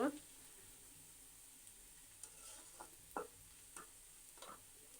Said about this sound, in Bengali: এভাবে পেঁয়াজটা ভেজে নেব